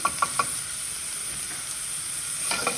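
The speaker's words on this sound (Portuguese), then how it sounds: "Aí eu vou esperar isso aqui refogar" A single clove of garlic sautés in a very hot pan, giving a soft steady sizzle with a few quick stirring clicks at the start and again near the end.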